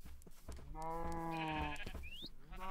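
Blocky Minecraft sheep bleats once in a clear, wavering baa lasting over a second, close and loud, with faint game clicks around it.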